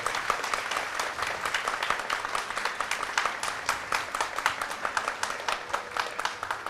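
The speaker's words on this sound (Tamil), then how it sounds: "இந்த அத்தனை கைத்தட்டும் அவருக்கு தான் சேரும்" An audience claps at a Radha Kalyanam festival concert in Vellore, with sustained, even applause from a sizeable crowd at moderate distance, unbroken and without talk.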